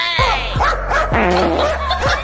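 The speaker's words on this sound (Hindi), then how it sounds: "इस कुत्ते को देखो जो घर के अंदर से ही बाहर मौजूद बंदर को मारने की धमकी दे रहा था" A dog barks repeatedly from inside a house at a monkey outside, with several sharp, loud, close barks that come in an uneven rhythm. Some of the barks break into yelps and whines between them.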